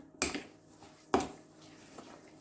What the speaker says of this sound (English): And then we can give it a stir